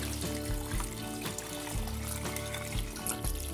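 Salt brine trickles and pours onto cabbage in a vessel in short splashing bursts, close by, with soft clinks between pours.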